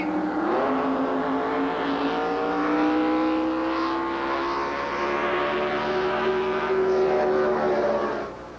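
A drag racing boat launches off the line, its engine roaring up in a loud rising whine that climbs and holds, heard close and alone without talk.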